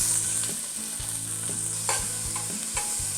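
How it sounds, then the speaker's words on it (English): Chopped onions frying in hot oil in a soup pot, a steady close sizzle with a spoon stirring and scraping at a regular rhythm, no voices. "Let's go ahead and add our oil. I'm gonna throw in our onions."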